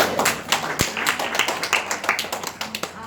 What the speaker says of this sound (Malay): Kita bagi satu tepukan untuk Kak Man.